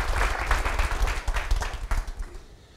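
Audience applause at a health insurance seminar in New Zealand, a burst of many people clapping that swells then thins and fades out, moderately loud and without speech.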